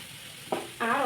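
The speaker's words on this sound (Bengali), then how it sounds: "আর লঙ্কা দিয়ে একটু নাড়িয়ে চাড়িয়ে নেবো।" Chilli fries in a pan with a soft background sizzle, then a brief stir and a louder spatter of frying as the pan is worked, close and short.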